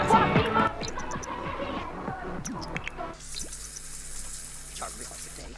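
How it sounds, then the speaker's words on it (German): A Sims character showers in The Sims 4, with dripping and squishy water noises at first, then a steady, close hiss of running shower spray that carries on to the end. "Der kann erstmal duschen gehen."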